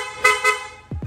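Loud aftermarket PIAA dual horn fitted to a Honda ADV160 scooter blares in two strong, harmonic-rich blasts at close range, followed by a sharp drop and a couple of short low chirps as it cuts off.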